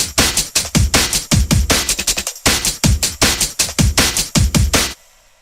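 Sampled drum'n'bass breakbeat drum part with crisp, sandy hi-hats over punchy kicks and snares, a fast, steady syncopated loop played loud and alone, briefly dropping out near the midpoint and cutting off just before the end.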